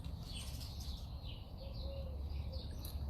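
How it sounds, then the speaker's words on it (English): Birds calling outdoors in the morning, with an owl among them: scattered chirps and a few soft hooting calls, fairly distant, over a steady low background rumble. "Yeah, these birds, this owl. You guys hear them? They're out this morning."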